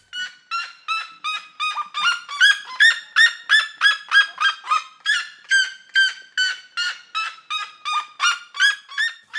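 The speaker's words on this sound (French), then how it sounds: "Je suis en grand dialogue avec la chouette à lunettes, la Mouroukoutoutou." Spectacled owl at the zoo menagerie giving a long series of rhythmic, evenly spaced hooting calls, loud and close, repeating steadily about twice a second without any talk.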